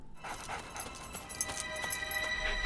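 A dog in the New Captain Scarlet video game pants in quick, breathy bursts close by, with faint whimpering touches, under a quiet ambient hum.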